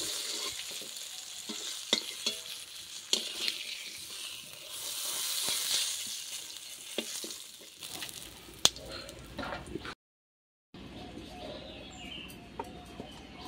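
Koi fish frying in hot oil, a soft sizzle with scraping and stirring clicks as pieces are lifted out, then a brief silence before quieter kitchen noise returns; a chicken clucks faintly in the background.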